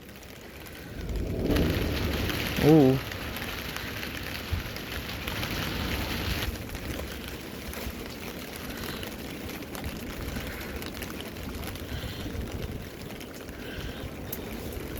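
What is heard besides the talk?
rain falling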